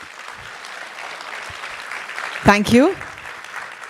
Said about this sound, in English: Can you have a huge round of applause for him?